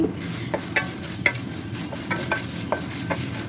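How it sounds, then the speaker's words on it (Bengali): Panch phoron whole spices fry in hot oil over medium-low heat after dried chillies, for a karamcha pickle, giving a soft steady sizzle broken by sharp spatula scrapes and clicks of stirring, close and without talk. "এখন পাঁচ ফোড়নগুলো ভেজে নিচ্ছি"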